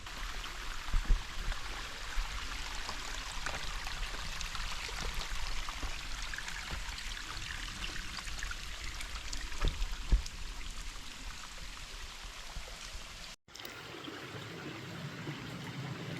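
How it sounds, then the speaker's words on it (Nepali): The Lovranska Draga waterfall rushes in a steady, continuous roar heard from a distance, faint and even throughout with no voices. "वाटरफलमा आइपुगेँ"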